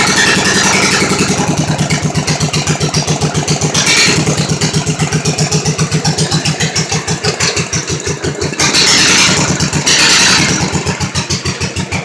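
A hotrod lawnmower engine running at a deliberately low idle, loud and close, with a steady rapid thumping putter and a couple of brief revs partway through.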